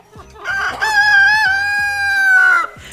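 A rooster crows loudly nearby, one long drawn-out cock-a-doodle-doo, with soft clucking and scratching around it.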